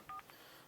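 Two quick redial keypad tones from a Star Trek Enterprise novelty telephone in rapid succession, faint and close, followed by a short hiss of line noise.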